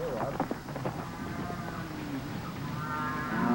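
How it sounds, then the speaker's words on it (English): Open-range cattle mooing outdoors, low drawn-out calls overlapping through a steady wash of wind and ambient noise, moderately near. "These are open-range cattle."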